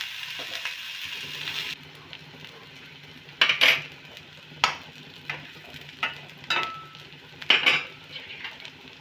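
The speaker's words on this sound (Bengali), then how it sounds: "পেঁয়াজটা দিলাম পেঁয়াজটা আমি ওই হালকা নেড়ে নেবো একটু" Chopped onion stirred lightly in a frying pan for paneer momos, a soft sizzle running under repeated sharp scrapes and clinks of a utensil against the pan, spaced irregularly.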